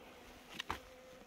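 Korean native honeybees swarm densely inside a packed hive box, a faint buzzing hum with two brief louder bursts as bees pass close, no voices.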